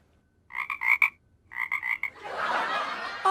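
A voice imitates a frog's croak in two quick bursts of rhythmic pulses, then a loud, breathy rushing noise follows.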